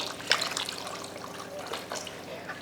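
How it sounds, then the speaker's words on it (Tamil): Water pours into a pan of tamarind curry after the salt goes in, making a soft, steady trickle with small splashes, close and fairly faint. "தேவையான உப்பு சேர்த்துட்டு குழம்புக்கு தேவையான தண்ணியும் சேர்த்துடலாம்"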